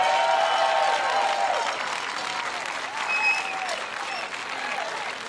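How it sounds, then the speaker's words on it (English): An audience at an outdoor city anti-violence gathering gives a speaker warm applause, a dense, sustained wash of clapping at close range that tapers slightly near the end, with no one talking. "give him a warm round of applause"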